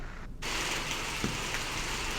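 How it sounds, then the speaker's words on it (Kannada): Heavy, continuous rain pours down in Chikkamagaluru, coffee country, during a downpour that brought trees down onto houses, a dense steady wash of sound close by with no talking. "ಕಾಫಿನಾಡು ಚಿಕ್ಕಮಗಳೂರಿನಲ್ಲಿ ಬಿದ್ದಂಥ ಧಾರಾಕಾರ ಮಳೆ ಇದು"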